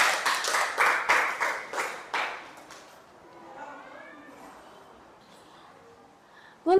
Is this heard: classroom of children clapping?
yes